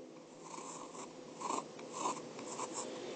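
Marker or pen writing out a complex-number multiplication by hand, a steady scratchy stroking with a few firmer accented strokes, close and moderately quiet with no talking.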